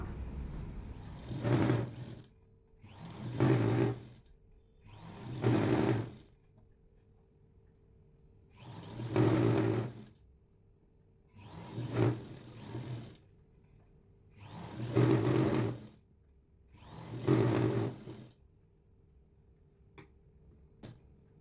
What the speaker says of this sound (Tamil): முதல் கீழே மடித்து தைச்சிருவோம்.